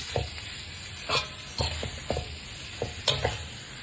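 Shallots fry in a pan with a soft, steady sizzle, broken by repeated stirring scrapes and clacks of a utensil at an irregular pace, close by.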